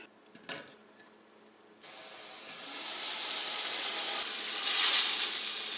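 Carrots cooking in oil in a pan hiss sharply when a little water goes in and the pan is covered, followed by a steady, rising steam sizzle.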